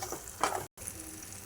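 Red banana halwa mixture stirred in a pan, a soft wet scraping and bubbling with a brief scrape burst near the middle and a moment of silence.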